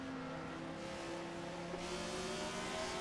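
An older Formula race car engine screams steadily at high revs on the Nürburgring Nordschleife, a loud continuous whine rising slightly in pitch as the throttle is held open, with no talk over it.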